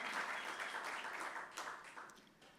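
Applause from a church conference audience, steady and fairly distant, fading slightly toward the end, with no talking over it.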